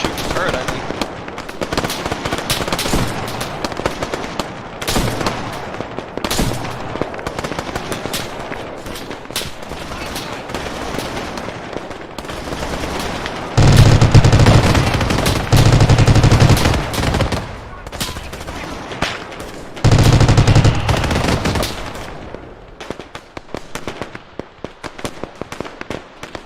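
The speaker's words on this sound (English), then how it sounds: "they're already trying to shoot the turret, I think." Sustained gunfire in ArmA 3 as units shoot at a turret, dense rattling bursts with louder volleys in the middle and near the end, mixed with game explosions and effects.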